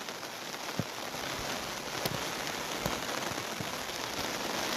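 Heavy rain pours down steadily and loudly close by, a dense unbroken hiss with a few sharper drop impacts and no voices.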